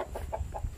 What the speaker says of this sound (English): Help Mama feed the chicken.